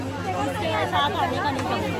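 Busy shopping market with a dense crowd chattering all around, overlapping voices forming a steady, close babble throughout.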